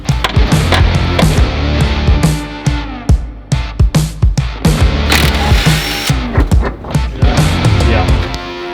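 Ratchet clicking and metallic clanks ring out as strut top hats are loosened on a Subaru WRX, in uneven rapid bursts of close mechanical clatter with short pauses between them.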